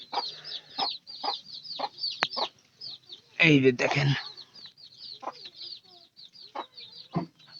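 Hens clucking close by in a small enclosure where chickens are kept confined, a steady run of short clucks with a louder flurry of squawking midway, while someone talks over them.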